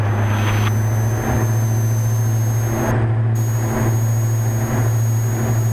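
The twin engines of a Diamond DA-42 NG aircraft drone in a steady, loud, low hum heard from inside the cabin, holding an even tone with faint rhythmic swells.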